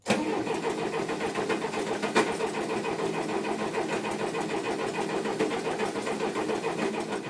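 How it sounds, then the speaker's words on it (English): A Case 430 diesel tractor engine cranks steadily with its fuel filters removed, churning and struggling to catch in one continuous, fairly loud run with no voices. "It's hunting for diesel fuel because we pulled the filters off"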